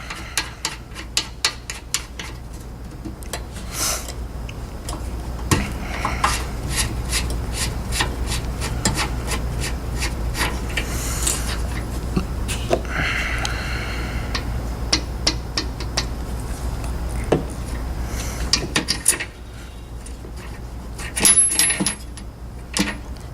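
Close metallic clicks, scrapes and rubbing as a euphonium valve is handled and slid back into its casing, with brief taps throughout.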